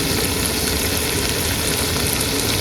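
Spices for a crab curry sizzle and fry in a pan, a loud, continuous crackling hiss that holds steady from start to finish with no talking.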